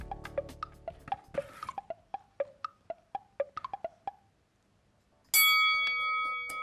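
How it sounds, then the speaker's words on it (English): A quiz-show bell gives a bright, sustained ding, ringing out loud and clear near the end after a quick run of short plinking notes and a brief pause. "Ding goes the bell."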